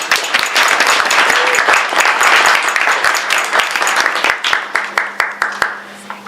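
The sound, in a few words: audience applause for donors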